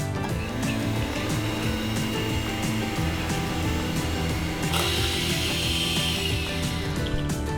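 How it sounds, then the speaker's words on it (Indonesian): Electric hand mixer running at low speed through a batter of eggs and sugar for savory choux pastry, a steady continuous whir with a slight rattling, mechanical edge that holds unbroken throughout, close and alone without talk. "kita akan mixer pakai speed rendah aja sampai gulanya larut"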